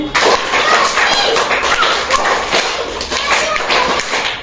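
Children in a primary classroom clap together in a dense, uneven burst of sharp hand claps, loud and close, lasting the whole time with no pause.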